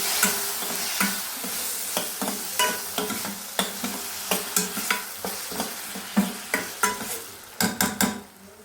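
Chopped tomatoes being stirred into sizzling pepper rasam in a pan, with a spoon scraping at a steady rhythm and a quiet frying hiss underneath, close and with no talk.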